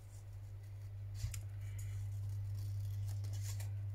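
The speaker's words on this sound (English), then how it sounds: "So what I'm going to do is I'm going to fussy cut this." Scissors fussy cutting around a printed paper motif for a crafting project, giving soft intermittent snips close by over a steady low electrical hum, with no talking.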